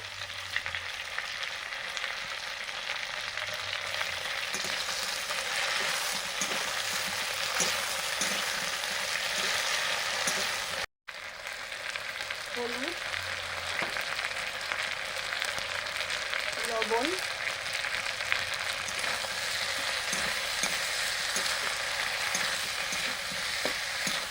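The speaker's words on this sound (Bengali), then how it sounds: "কাঁচকলা আলু ফোড়নের সঙ্গে ভাজা হয়ে গেছে এবার দিয়ে দিচ্ছি সামান্য আদা বাটা" Raw banana and potato pieces fry with tempering spices and a little ginger paste, a dense, continuous sizzle close by, broken by one brief dropout and a few faint scrapes.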